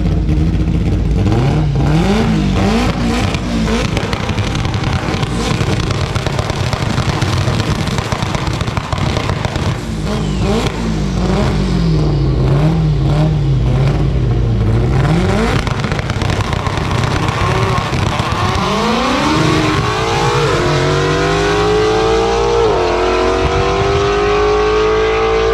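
A 1,000 horsepower all-wheel-drive Honda launching at a drag strip, loud engine revving and popping near the line, then a sustained, rising roar as it pulls away under wind and crowd noise.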